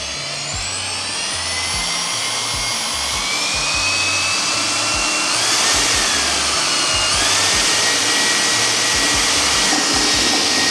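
Power mixer churning urethane cement powder into liquid, a loud continuous high motor whine with a steady drone, shifting slightly in pitch as it works, close and alone without speech.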